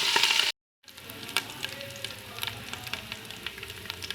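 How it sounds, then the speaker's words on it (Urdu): Ginger paste fries in a pan with roasted spices, a steady close sizzle with scattered crackles and pops; a louder burst opens before a brief cut to silence, then the frying resumes alone. "اب ہم ڈالیں گے اس میں ادرک کا پیسٹ، اور اب ہم اس کو 1 منٹ کے لیے فرائی کریں گے"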